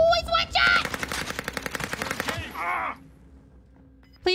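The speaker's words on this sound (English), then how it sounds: "Please tell me that's you sniping these guys." Video game gunfire in an online match, a rapid burst of close, rhythmic shots lasting about two seconds, followed by a fading tail and quiet, with voices and game sounds mixed in early.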